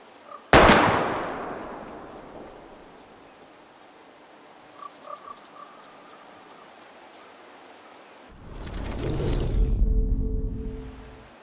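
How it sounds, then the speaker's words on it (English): A sharp gunshot rings out near the start, followed by faint clinks and small impacts, then a louder low rumble near the end as bottles are shot at in the game Life Is Strange. "We're gonna shoot all these bottles without wasting a single bullet."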